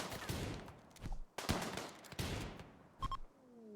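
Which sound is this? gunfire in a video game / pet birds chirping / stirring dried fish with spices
gunfire in a video game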